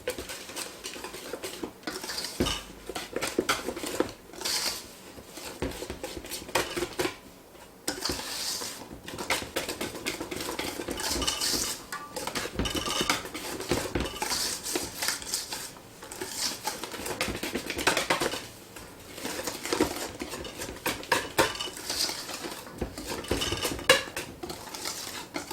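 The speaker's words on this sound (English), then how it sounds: "stir it directly in with my whisk" A whisk stirring cake batter in a bowl for a lemon chiffon cake, rapid metallic clicking and tapping against the bowl in quick bursts with brief pauses, close and continuous for about twenty-five seconds.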